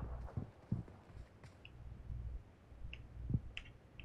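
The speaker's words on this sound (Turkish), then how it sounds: "Ayak sesleri." Footsteps in the mobile battle royale game PUBG Mobile, several quiet irregular thuds and clicks over faint background noise.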